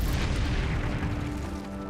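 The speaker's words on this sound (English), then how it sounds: "Oh, they explode." Bombs exploding in the video game Hogwarts Legacy, a loud dense boom with a rumbling tail that slowly decays over two seconds.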